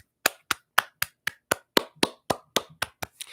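A single pair of hands claps about a dozen times in an even, brisk rhythm, each clap sharp and close, with no other sound between.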